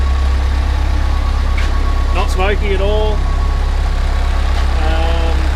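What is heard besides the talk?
1955 Land Rover Series 1 engine idling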